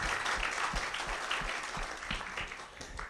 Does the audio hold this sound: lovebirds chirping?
no